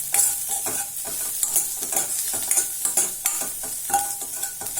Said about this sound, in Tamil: இது பாருங்க சூப்பரா வதங்கிட்டு பாருங்க.